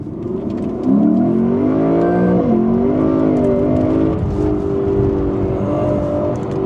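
A Lexus GS F sports car accelerates hard on a country A road with its tires spinning, the engine note climbing loud and close through the gears with brief shift dips.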